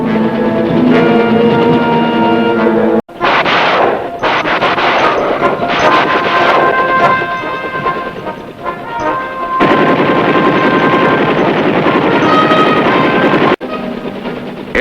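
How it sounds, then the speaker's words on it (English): Loud, dense battle din of a low-flying helicopter attack in the Vietnam War, with bursts of machine-gun and rifle fire and heavy booms over a steady roar, briefly cut off twice. "Helicopters swooped down to skim the ground at low level, sweeping the landscape with reconnaissance by fire"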